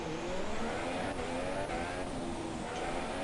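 A field of F2 race cars in a sim racing game sits on the Austrian GP grid before the formation lap, with a steady, dense engine drone that holds loud throughout.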